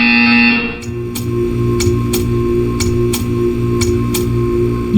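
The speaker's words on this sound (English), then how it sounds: "You will hear a buzzer." Portal 2 buzzer sounding while a loud tone cuts off, followed by a harsh, repeating pulsed electronic buzz with regular ticking clicks, steady and close.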